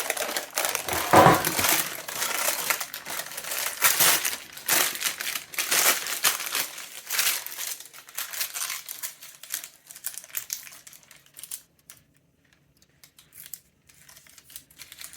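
Knife sawing through chilled no-bake oat bars topped with hard set chocolate, a bread knife producing close, loud crunching and cracking strokes that taper off into quiet scrapes and near silence.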